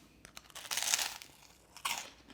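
A crunchy, sweet low-calorie peanut butter late-night snack is bitten and chewed close up, with a few small crackles followed by two louder crisp crunching bites.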